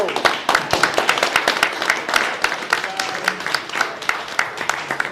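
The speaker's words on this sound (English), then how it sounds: "let's please give one last round of applause to the staff at the Blue Rose." An audience claps steadily in a room after a roundtable gathering, dense overlapping applause at moderate loudness with a few voices faintly mixed in, honoring restaurant staff.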